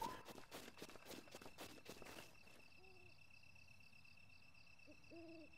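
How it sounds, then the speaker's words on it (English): An owl hooting in the video game Zelda: Breath of the Wild, two distant, soft paired hoots after a burst of footstep-like thumps, over a quiet ambient game background. "I hear an owl"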